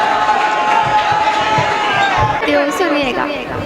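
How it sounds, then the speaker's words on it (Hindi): Crowd noise at a mushaira in Malegaon as poet Nigar Anjum is welcomed, a continuous bed of applause and cheering from a large audience, with voices in it. "भरपूर तालियों में इसका इस्तकबाल करें आप।"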